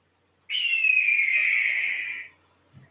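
A hawk's call rings out high overhead, a single long, clear, slightly descending scream lasting nearly two seconds, followed by quiet and a faint soft thump.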